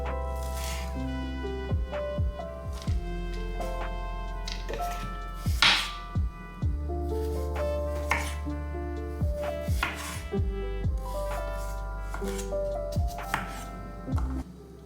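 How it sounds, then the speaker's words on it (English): Knife chopping cooked beets on a cutting board, a series of sharp irregular thunks at varying pace, close and clear with no talking. "I'm just gonna chop them all up so I have a meal for tomorrow as well"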